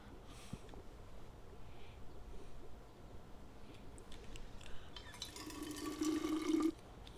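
Water runs into a pan from a tap in the video game We Happy Few, a faint steady fill that swells louder near the end over a low background hiss.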